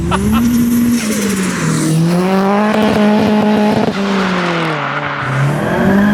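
A Ford Escort Mk6 with a swapped Focus RS engine making 360 bhp pulls hard, its loud engine note climbing and dipping through the revs from inside the cabin, with occupants talking over it.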